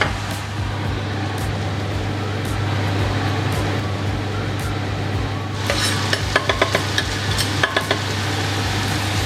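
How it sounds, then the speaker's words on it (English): Peppers and chili being stirred in a pan, a low sizzling bed under a steady hum, then a run of quick metallic taps and scrapes from a spoon against the pan toward the end. "Give that a good old mix."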